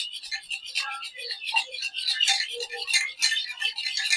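Cake batter mixed with fresh curd is whisked in a bowl, giving a continuous light, wet scraping and swishing close by, with quick irregular strokes and no one speaking.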